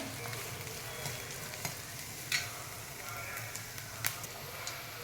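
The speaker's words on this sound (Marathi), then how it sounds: "आता हे कांदा तेलात परतताना हे पण छान परततील म्हणजे याचा कच्चेपणा नाहीसा होईल आणि आता सगळं व्यवस्थित परतून घ्यायचं" Chopped onion and taro stems frying in oil, a low continuous sizzle with faint stirring scrapes and a few soft clicks, fairly quiet and steady with no voice.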